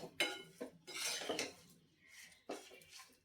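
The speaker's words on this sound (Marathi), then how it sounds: "भाजून घेतलेलं खोबरं हे देखील मिक्स करून घ्यायचं" A spoon stirs roasted coconut into a sweet jaggery mixture for panchakhadya barfi, giving a few soft scrapes and light clinks against the pan, close and quiet with nothing else heard.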